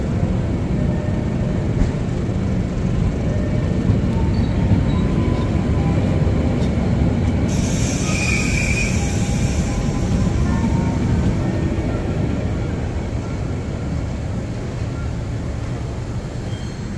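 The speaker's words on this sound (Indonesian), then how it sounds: "Kereta api Mutiara Timur." Mutiara Timur passenger train passing close by on Indonesian rail, a steady loud rumble of wheels and carriages lasting throughout, with a brief high-pitched squeal partway and no voices.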